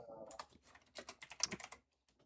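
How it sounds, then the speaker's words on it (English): A loud computer keyboard clatters with rapid, uneven bursts of close-up keystrokes for about two seconds, then stops. "So sorry, my keyboard's loud."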